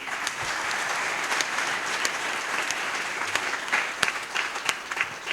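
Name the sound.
congregation applauding the priest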